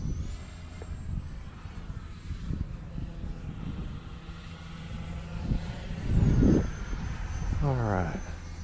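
An Arrows RC Marlin 64mm electric ducted fan model jet whines steadily as it flies overhead in wind, its pitch sliding near the end, with outdoor noise and a brief louder pass.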